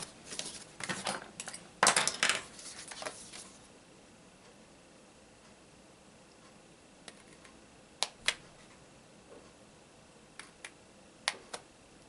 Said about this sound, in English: I'm just going to snip up to that score line